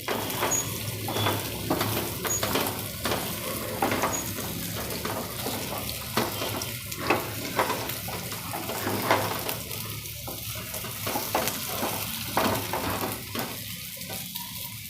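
Coated soya chunks fry in hot oil, a steady close crackling sizzle broken by repeated scraping and clinking as a utensil stirs them in the pan.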